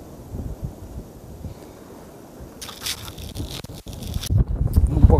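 Strong wind buffets the microphone at a lakeside carp-fishing spot in stormy May weather, rumbling in uneven gusts that swell louder toward the end, with scraping handling noise mixed in.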